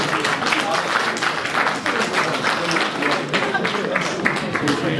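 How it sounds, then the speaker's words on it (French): An audience applauds an embassy security chief at an ambassador's farewell event, with dense, continuous clapping of crisp overlapping claps at steady loudness. "Sous vos applaudissements s'il vous plaît"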